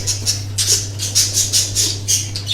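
A mother budgerigar gives loud, harsh, repeated squawks while being handled at close range. The calls are rhythmic and shrill, over a steady low hum.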